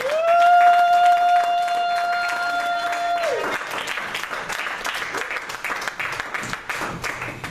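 A church congregation bursts into applause acclaiming Jesus, dense clapping that rises after a sustained sung or keyboard tone fades, fairly near and loud, with some voices mixed in.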